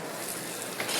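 Steady broadband sizzling and crackling of steak fresh from a TurboChef i5 convection microwave oven, close and continuous with a slight swell near the end.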